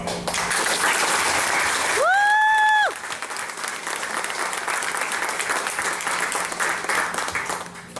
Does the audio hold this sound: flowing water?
no